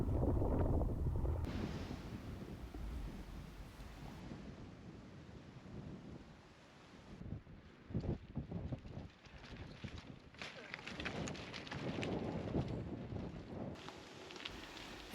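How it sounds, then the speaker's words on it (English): Heavy wind and rain buffeting a microphone during a bike ride on the West Highland Way in the Scottish Highlands, loud irregular gusting roars with rumbling swells and brief quieter lulls. "The wind and rain were pretty heavy here, so I apologise for the quality of the footage."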